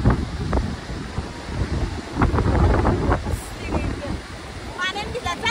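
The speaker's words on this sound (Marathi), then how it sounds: "मी जास्त जोरात बोलते कारण की हवेचा आवाज येतो" Strong sea wind at a beach in Malvan buffets the microphone in loud, uneven gusts, with someone talking over the roar.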